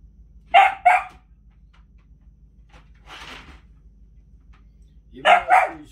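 A dog barks in short sharp pairs, two quick barks at the start and two near the end, with a softer sound between in a quiet room.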